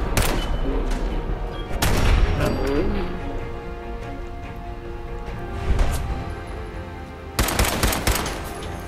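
Gunfire in the Fallout 4 video game: several bursts of rapid shots and heavy impacts ring out over a busy in-game backdrop, the loudest volleys near the start, middle and end.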